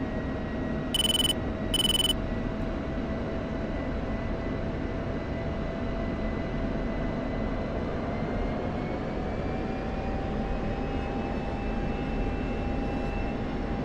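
An F-16 jet engine in the DCS flight simulator holds a steady whine and roar through an overhead break, its tone rising slightly partway through, with two short electronic beeps early on.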